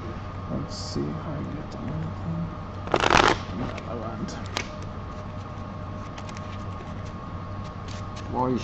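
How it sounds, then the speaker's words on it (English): A deck of Magic: The Gathering cards shuffled briskly, with a sharp burst of riffling near the middle and lighter card shuffling around it, over a steady background hum and low talk. "So aggressive with shuffling."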